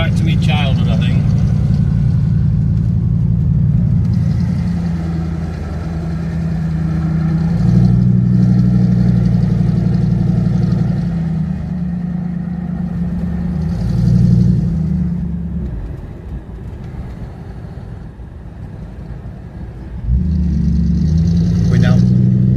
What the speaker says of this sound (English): what's he doing with noisy exhaust on